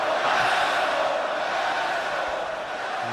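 A virtual arena crowd in a WWE 2K wrestling game chants and roars as a dense, continuous wash of voices, steady and fairly loud throughout.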